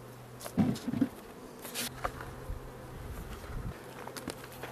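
A few honey bees buzz at an opened beehive without smoke, giving faint scattered hums and brief nearby buzzes with soft handling clatter, no talking.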